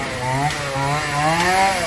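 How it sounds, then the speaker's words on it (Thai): A chainsaw cuts into a large tree outdoors, its engine droning loud and close with a pitch that rises and falls as the chain bites into the wood. "เดี๋ยวเรารอเลื่อยนี่เอาเลื่อยมาละ"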